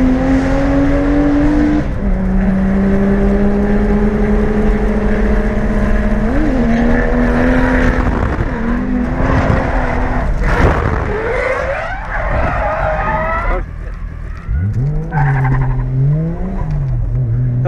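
A car drives hard up close on the Ebisu Circuit touge course while following another car, engine droning loudly and steadily, with pitch rising and falling through gear changes and throttle lifts around corners.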